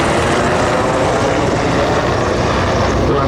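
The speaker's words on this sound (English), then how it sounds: "One of our Navy Seahawk helicopters flying by." A Navy Seahawk helicopter flies past near the tip of Point Loma, its loud, steady rotor and engine roar filling the air without a break.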